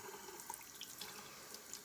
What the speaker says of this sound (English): I always take and rinse this off with warm water